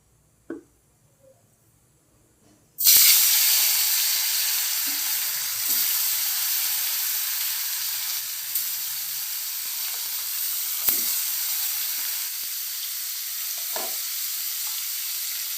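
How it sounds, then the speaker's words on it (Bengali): Fish dropped into hot, smoking white oil bursts into a loud, steady sizzle after a quiet start, with the hiss holding throughout and a few faint clinks and pops over it. "তেল আমার গরম হয়ে গেছে, তেল থেকে ধোঁয়া ছেড়ে দিয়েছে। এখন আমি মাছগুলো দিয়ে দেবো।"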